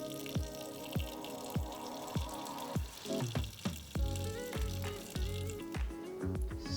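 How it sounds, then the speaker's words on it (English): Aquarium water poured over Cryptocoryne Petchii in a wabi kusa setup in a DOOA Neo Glass Air 15x15x25 glass, giving a close run of splashing and trickling pours with a repeated rhythmic pattern and no talking. "now let's just pour it on top of the Cryptocoryne Petchii."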